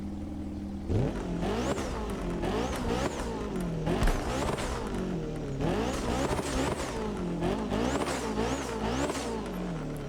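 A Porsche 919 Street hypercar in the racing game The Crew Motorfest revs hard through repeated gear changes, its engine note sweeping up and dropping again in rapid cycles, loud and continuous with occasional tire squeal.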